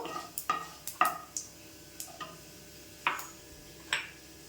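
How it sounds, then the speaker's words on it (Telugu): Urad dal roasting in a pan, stirred with a utensil that gives a string of soft scrapes and light clinks at irregular intervals over a faint background, with no talking. "ఈ మినపప్పు కూడా కాస్త వేగిన తర్వాత చూసారా ఇలా కొద్దిగా వేపుకొని"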